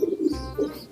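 A large racing pigeon, a lap champion bird in a loft, gives two short close cooing phrases, a low throaty coo followed by a second after a brief pause.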